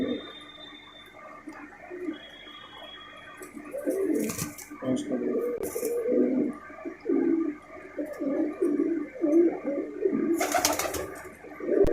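A Malwai pigeon cooing close by in soft rolling phrases repeated through the stretch, with faint background noise and a few brief bursts of rushing sound.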